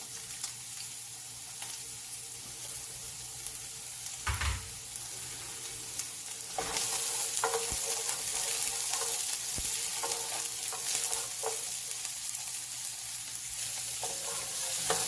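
Chopped onions and garlic sizzle in a pot for Trinidad corn soup, the hiss growing louder partway through as a spoon scrapes and taps in intermittent stirring strokes.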